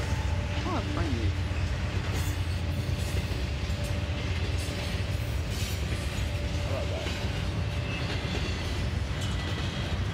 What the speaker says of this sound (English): it could be a dash 9 locomotive